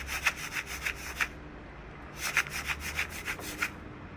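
Homemade maracas made from a plastic bottle filled with sand or rocks, shaken in two quick bursts of rapid rhythmic rattling, close and fairly quiet with a brief pause between.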